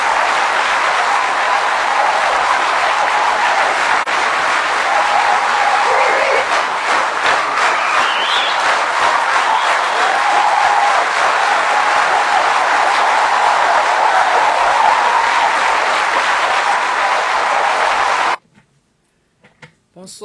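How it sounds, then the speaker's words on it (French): Sustained audience applause at a live prayer gathering, a loud, continuous roar of clapping and crowd noise with voices mixed in, lasting most of the moment before cutting abruptly to near silence. "Je vous demande de lui faire un tonnerre d'applaudissements."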